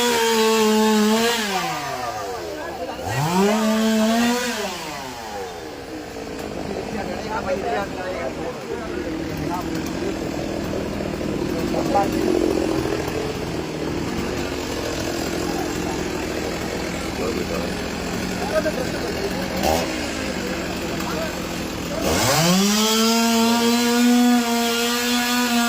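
A chainsaw cuts a tree that fell across the road after a wall collapsed in Poonthura, revving up and down at the start and end with a steady cutting drone between, while people talk over it.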